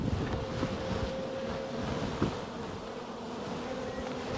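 Very populous honeybee colony droning steadily around an opened hive, a dense continuous buzz of many bees close by with some wind noise against the microphone and no talking.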